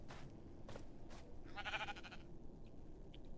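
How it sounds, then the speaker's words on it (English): A single sheep in Minecraft's nether lets out a short, wavering bleat, fairly faint amid a low rumbling ambience, with a few soft clicks before and after. "there's just been a sheep chilling"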